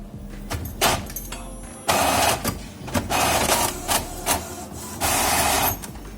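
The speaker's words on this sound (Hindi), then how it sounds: "अभी मैं प्रिंट दे रहा हूँ यहाँ पर।" A tattoo stencil printer runs through a print in several mechanical bursts, whirring and clattering loudly with short pauses between passes, up close and with no talking.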